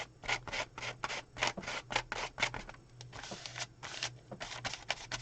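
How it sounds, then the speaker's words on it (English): A paint scraper being wiped clean in a mixed-media painting session, a series of quick, soft scraping strokes in a rapid rhythm, close and fairly quiet. "I'm cleaning off my my scraper"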